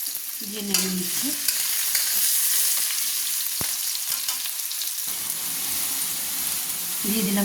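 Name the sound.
stirring vegetables frying in a wok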